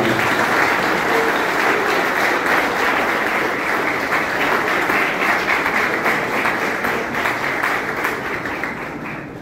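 An audience at a student Java project competition gives a group loud, dense applause, a sustained crowd of clapping hands that holds steady and tapers off slightly near the end.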